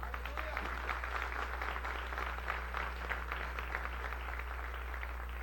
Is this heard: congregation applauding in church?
yes